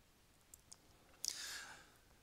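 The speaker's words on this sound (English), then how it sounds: "we're going to click on submit recovery" A couple of faint, sharp computer mouse clicks sound in a quiet room, followed by a brief soft rushing sound.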